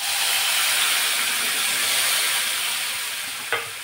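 Spices, turmeric and red chilli powder sizzling in hot tempering oil for a tomato curry, a loud, even hiss of frying close by that fades slightly, ending with a brief clink.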